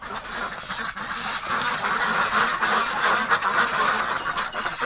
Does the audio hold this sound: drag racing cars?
no